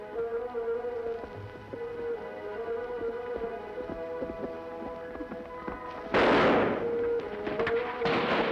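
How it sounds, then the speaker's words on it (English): A single rifle shot in an old Western setting, a sharp burst that hangs with a brief echoing tail over a sustained dramatic orchestral score. "Rifle shot, Tonto. Sound like come from Red Rock over there, Kimisame."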